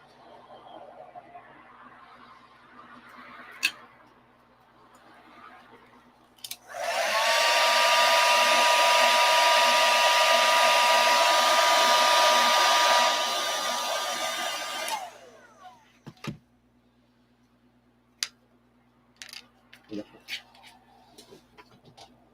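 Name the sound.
hair dryer blowing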